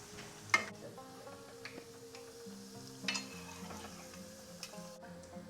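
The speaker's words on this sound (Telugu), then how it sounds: "కాకరకాయ పచ్చడికి కాకరకాయలు ఇలా గోల్డెన్ ఫ్రై వచ్చేలాగా వేపుకోవాలి" Bitter gourd (karela) slices frying in oil in a home kitchen for Andhra-style pickle, a faint steady sizzle with a few light clinks and stirring taps, with a hum of background music.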